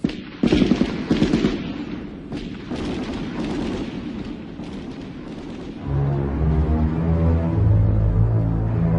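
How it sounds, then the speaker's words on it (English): Rapid bursts of automatic gunfire crackle loudly at first, then fade into a rumbling backdrop as a low musical drone rises in the second half. "decimated these terrorists with automatic gunfire"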